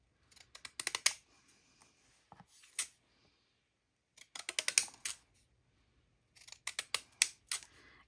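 Scissors snip paper in quick bursts of short crisp cuts, separated by quiet pauses, close and faint.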